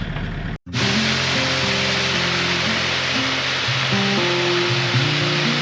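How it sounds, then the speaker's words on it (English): Water roars over a weir in a steady, loud, broadband rush, continuous and close, with no voices. "we're at Caustic's Weir"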